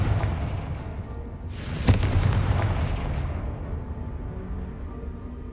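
A Confringo explosive spell goes off in Hogwarts Legacy, a single sharp blast near the middle that leaves a long rumbling tail over steady game ambience.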